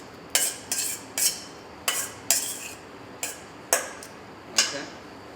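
Olive oil mixed through chopped aubergines and courgettes for a ratatouille salad, heard as about eight sharp utensil clinks against a bowl in an irregular rhythm, close and clear with no talking.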